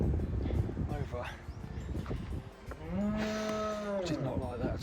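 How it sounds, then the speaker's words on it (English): Cattle lowing in a field along a coast-to-coast hiking route in northern England, a drawn-out moo rising clearly after a stretch of wind and footstep noise, moderately close. "oh look, there's those cows"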